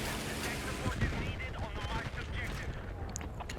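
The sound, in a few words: tank cannon shot in a video game, Leopard 2 tank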